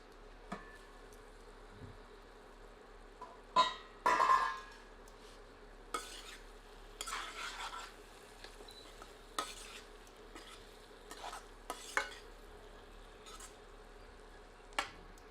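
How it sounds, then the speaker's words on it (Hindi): Lima beans and potatoes cook in a covered pan on a low flame, with a faint steady simmer and occasional stirring scrapes and clinks scattered throughout, close but quiet, with no voices. "पुनः इसे ढककर 10 से 12 मिनट धीमी आंच पर पकाते हैं"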